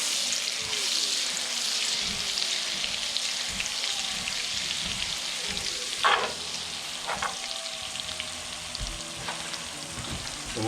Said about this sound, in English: We're going to throw it in with our bacon grease and all our rendering.